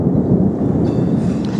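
Deep thunder rumbling through a rainy-season storm in Thailand or Laos, a steady low roll that fills the whole moment, with rain hiss and some wind noise underneath and no voices.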